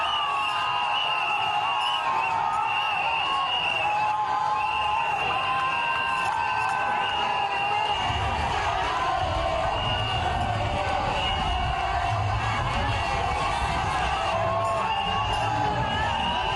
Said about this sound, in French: Tout au long de l'autoroute, une foule en liesse acclame professeur Alpha Condé